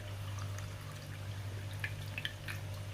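Zobo juice dripping through a sieve: faint, soft, irregular drips and a light trickle over a low steady hum, close by and quiet.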